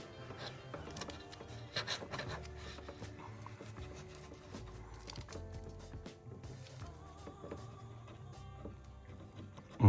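A brush dabs and scrapes resin onto fiberglass strips during a repair of a Lotus Exige S2 headlight bracket, quiet close-up rubbing and tapping strokes in an irregular rhythm, with a sudden louder knock at the very end.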